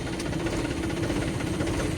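A Mahindra 295 Sarpanch tractor engine runs at a steady idle, a close, continuous low diesel rumble with an even throbbing pulse and no voices.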